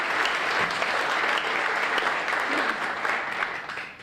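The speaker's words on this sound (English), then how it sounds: "Let's give them a round of applause." An audience claps for sponsors at a retirement celebration, a thick, even wash of applause that holds steady for about four seconds before tapering off near the end.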